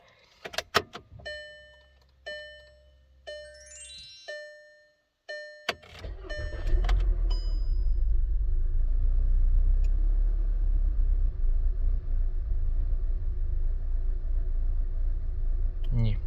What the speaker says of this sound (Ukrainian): Зараз спробуємо завести автомобіль, подивимося, як як е, плавають обороти.